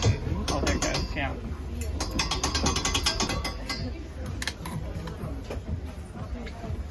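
Mechanical ratcheting and grinding as the wheel of a souvenir smashed-penny machine in Edinburgh is cranked round, a continuous close clicking churn with metallic clinks, with people talking over it.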